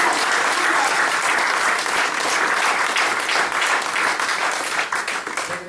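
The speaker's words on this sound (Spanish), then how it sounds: "Démosle palmas nuevamente al Señor." A church congregation claps for the Lord during a Spanish-language sermon, a sustained, loud, dense round of applause from many hands that holds steady and begins to thin toward the end.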